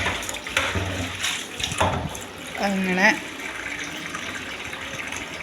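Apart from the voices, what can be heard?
water being poured into a pot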